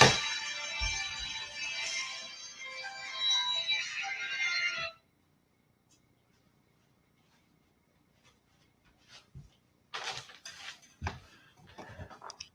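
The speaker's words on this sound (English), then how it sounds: "let me extinguish this phone call" An incoming phone call rings as a bright repeating electronic tone during the first few seconds, then stops. After a long silence, soft clicks and handling noises follow.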